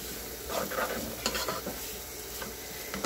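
White and red onion with garlic fry in a pan, a steady close sizzle broken by scraping stirs of a utensil against the pan.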